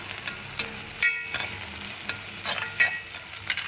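Chow chow frying in a little oil gives a close, steady sizzle, punctuated by repeated scraping and knocking of a spoon stirring it in the pan, with no talking.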